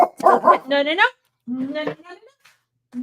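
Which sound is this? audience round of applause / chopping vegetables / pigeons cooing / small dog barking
small dog barking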